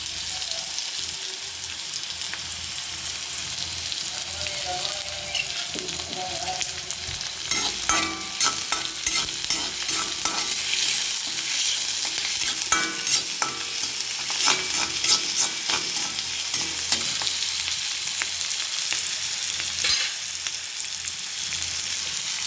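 Onion and garlic fry in a pan for village-style Karnataka bitter gourd palya. A steady soft sizzle runs throughout, with scattered scraping and stirring clicks growing busier midway, close and without speech.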